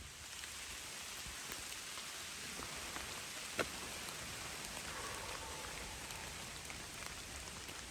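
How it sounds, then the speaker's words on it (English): Heavy rain falls on the Appalachian Trail near a ridge, a steady soft hiss of drops with no voices, fairly faint and even from start to finish. "it is raining now. Not just drizzling."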